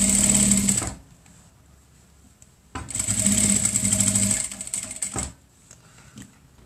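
A sewing machine runs in two fast bursts while backstitching and then stitching round elastic on a child's fabric mask. The bursts are loud, close and rapid, with a short quiet pause between them and no talking.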